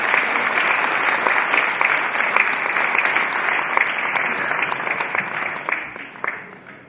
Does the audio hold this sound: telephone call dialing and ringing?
no